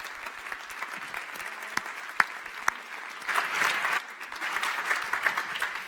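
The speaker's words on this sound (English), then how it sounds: "Preferably some well-earned applause." A crowd at a science communication competition final claps at moderate volume, with a few sharp individual claps standing out before the applause swells slightly toward the end.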